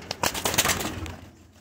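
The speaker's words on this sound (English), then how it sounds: "These are Spanish pouters, thief pouters." Spanish pouter pigeons, a thief pouter breed, make soft bird sounds at close range, several brief coos and rustles in quick succession that fade toward the end.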